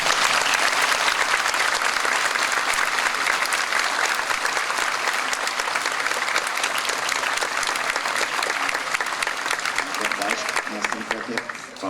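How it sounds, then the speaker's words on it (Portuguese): Audience at a congress lecture clapping together, a dense, sustained round of applause that stays strong and begins to thin near the end. "Peço uma salva de palmas para esses nossos amigos."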